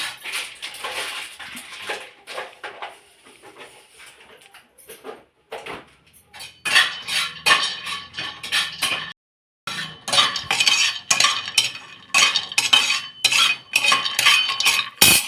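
Almonds and pasta pieces are warmed and stirred in a pan at home, with repeated scraping and metallic clinks of a spoon against the pan in irregular bursts, a brief pause midway, then steady stirring again.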